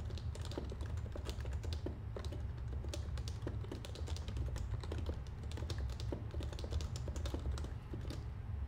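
Rapid keystrokes on a computer keyboard clatter close by in continuous, uneven bursts of clicks, with a low steady hum underneath and no talking.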